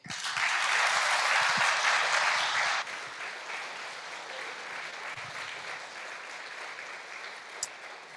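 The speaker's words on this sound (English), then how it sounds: "Give them a warm applause." Applause from an audience greets the nine young chef finalists at an award ceremony, loud and dense for nearly three seconds, then dropping to a softer, thinning patter.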